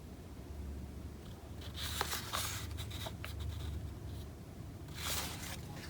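Scissors cut paper for a planner journal, a few soft rasping snips close by over a quiet background.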